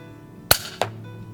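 A hunting rifle shot at a duiker cracks sharply and close, then a second short report or impact follows about a third of a second later, with quiet outdoor air before and after.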